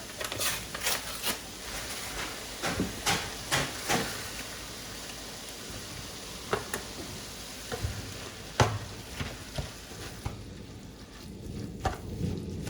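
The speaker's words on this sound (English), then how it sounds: "I'm going to add my taco seasoning, and I'm going to mix it all together" Cabbage, ground beef, cilantro and taco seasoning stirred together in a pan: a quiet run of scraping, clicking spoon strokes over a soft, steady sizzle, irregular and close, with no talk.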